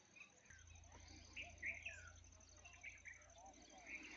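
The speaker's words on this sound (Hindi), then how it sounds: "अतराफ में परिंदों की आवाज़ें, कभी कभी मोर की आवाज़ भी सुनाई दे जाती है" Birds chirping and calling faintly around Bhodesar Mosque in Nagarparkar, Tharparkar, at sunset, several short, scattered calls over a low outdoor hum, with someone talking quietly beneath them.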